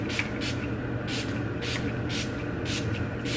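A makeup setting spray misted onto the face in several short, hissing bursts at a steady rhythm over a constant low background hum.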